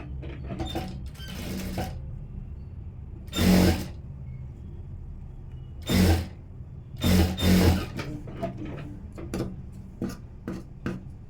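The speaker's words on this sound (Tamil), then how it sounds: "ஃப்ரண்ட்டு மேலே வச்சு தைக்க ஆரம்பிச்சிடலாம்" A sewing machine stitching the front panel of a blouse runs in bursts of mechanical whirring and clatter, with several louder runs spaced between quieter handling sounds and brief pauses.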